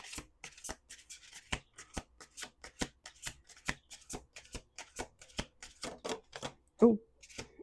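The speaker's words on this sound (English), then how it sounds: "Let's do 2 more shuffles." A deck of cards is shuffled repeatedly, sharp riffling bursts in a quick irregular rhythm, close and fairly loud, ending with a brief vocal sound.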